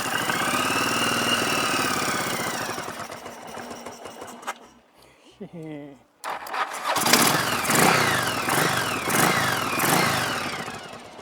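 A Yamaha Virago XV1100 motorcycle cranks over on its starter, falters briefly, then fires and catches into a loud, close, throbbing run; a voice speaks over the cranking.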